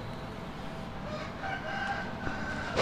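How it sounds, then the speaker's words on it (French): Fighting cocks crowing at a small breeding farm in Bangkok, a couple of faint, distant crows rising over a low steady background murmur. "on entend des coqs parce que on est face à un petit élevage de coqs de combat"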